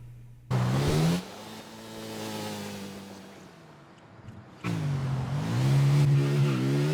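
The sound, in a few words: car engine revving while driving in GTA IV, video game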